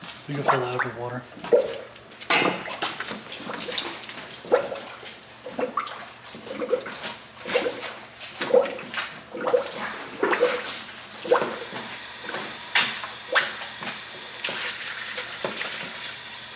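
Water poured from a container into the cooling system of a supercharged Nissan 350Z, a steady gurgling and splashing with rhythmic glugs, close, with a voice talking over it.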